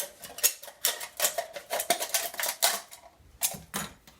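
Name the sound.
scissors cutting aluminum can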